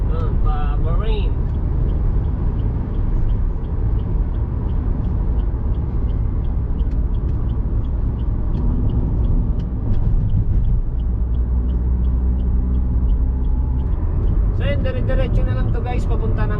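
A car cruises along a highway in steady travel, a continuous engine and road rumble filling the cabin throughout while a voice talks over it.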